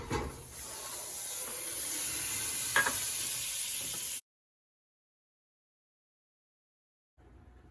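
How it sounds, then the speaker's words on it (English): Butter melts in a pan for no-bake Nutella cookies, giving a steady close hiss and sizzle that stops abruptly partway through, then faintly returns near the end. "In a pan, melt your butter."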